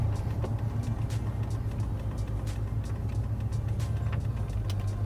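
A tuned truck fitted with a BTR Truck Norris cam drones steadily at low throttle, a continuous low, throbbing exhaust hum with a slight pulsing rhythm and faint ticks, heard alone and close.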